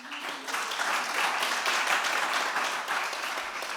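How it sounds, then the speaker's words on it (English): Audience applause at a design keynote event, a steady dense wash of clapping from a crowd that holds at an even level throughout, with no break or voice over it. "can you all also give a round of applause for Miriam Turkey, please?"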